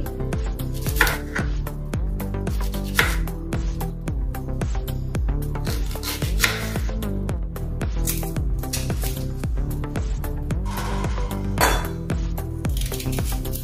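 A knife chops onions on a board in a home kitchen with a steady series of sharp cuts, close and clear, with clinks of utensils and no talk.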